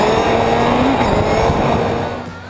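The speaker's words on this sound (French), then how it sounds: "le bruit dégagé par le moteur est soigneusement étudié par les ingénieurs pour participer aux sensations" Kawasaki Z800 roadster motorcycle engine running loud and close with a steady, slightly rising rev that eases off near the end, no talking over it.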